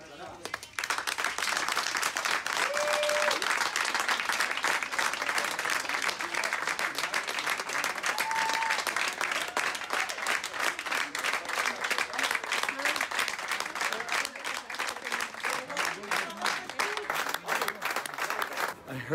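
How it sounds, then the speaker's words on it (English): Hospital staff gathered at a ceremony applaud doctors during the COVID-19 pandemic, with dense, continuous clapping from a crowd lasting throughout, fairly close and lively, with a couple of brief tonal beeps early on. "this was a global effort to applaud and support the doctors all around the world"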